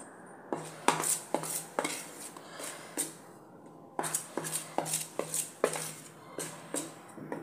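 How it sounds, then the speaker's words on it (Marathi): A spoon stirs and scrapes hot khadugale chakli dough in a metal pan, giving repeated clinking, scraping strokes in an uneven rhythm, close and moderately loud with no voices. "हे अगोदर एका चमच्याने मिक्स करून घेऊया, डायरेक्ट हात घालू नका"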